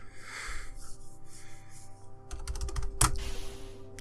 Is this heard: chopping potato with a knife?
no